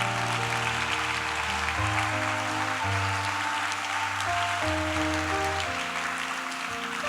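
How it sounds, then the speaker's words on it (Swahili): A church congregation claps together while sustained keyboard or organ chords play underneath. The applause is a steady, broad wash that holds throughout, loud and unbroken. "Mchapie Yesu makofi."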